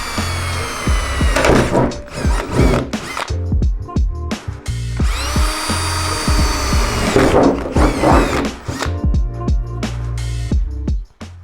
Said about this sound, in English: Now that you've drilled out all the holes for your hood vent